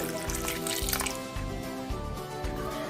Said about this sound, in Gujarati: હજી થોડું પાણી એડ કરીશું